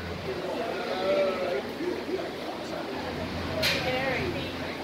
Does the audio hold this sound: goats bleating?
yes